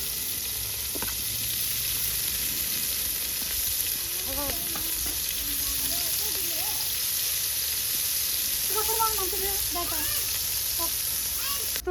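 Ginger and garlic sizzling in a pan for chicken curry, a steady close hiss of frying with occasional crackles while a person talks over it.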